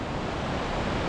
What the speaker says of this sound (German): Ein schon imposanter Wasserfall.